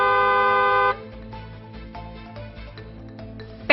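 A vehicle horn blares in one sustained, loud, steady honk lasting about a second, then cuts off, leaving low background noise.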